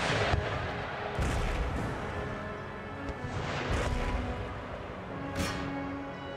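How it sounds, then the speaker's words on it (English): Cannon fire from a battle in Empire: Total War, several booming volleys, with three or four louder bursts rising over a constant rumbling din of distant gunfire and battlefield noise. "Artillery inbound."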